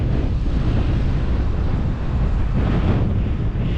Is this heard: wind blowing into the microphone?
yes